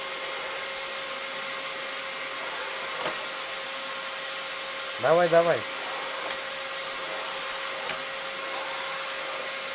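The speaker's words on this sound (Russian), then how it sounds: "Вот пылесос, что ты начала тут позировать?" A household vacuum cleaner runs steadily as a constant whine throughout, with a woman's short spoken urging and a brief rising vocal sound in the middle.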